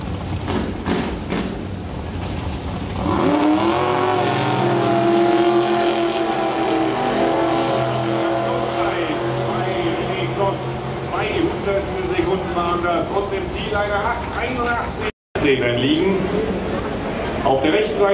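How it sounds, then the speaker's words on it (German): Race vehicle fitted with an 80 cc single-cylinder four-stroke scooter engine at a public race day, its loud buzzing engine running continuously and rising in pitch under a commentator's voice, with a brief dropout near the end. "Leonie hat einen 80 gewiegten Einzylinder Viertakt Heidler Rollermotor auf der Hintern"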